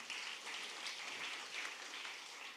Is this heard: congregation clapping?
yes